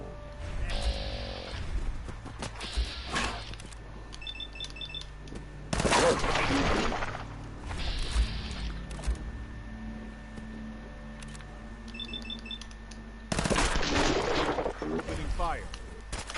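Gunfire in the Fallout 4 video game, several loud sharp shots and bursts spread across a stretch of game ambience, with a voice talking between them.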